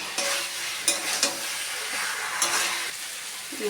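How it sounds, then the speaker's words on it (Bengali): Mixed vegetables sautéed with spice paste in a pan: a steady sizzling hiss with a few stirring knocks and scrapes, close by and without talk. "এবার আমি সব সবজিগুলো দিয়ে দেবো দিয়ে কষিয়ে নেব"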